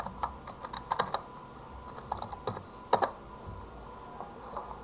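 Computer keyboard keys being tapped to enter login details: faint, irregular clusters of soft clicks over a low background hum, with small bursts of quick keystrokes and brief pauses between them.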